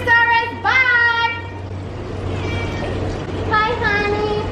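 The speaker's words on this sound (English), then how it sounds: "The cat is meowing." A cat meows several times close by, with drawn-out, rising and falling cries over a low steady hum.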